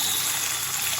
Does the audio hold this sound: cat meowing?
no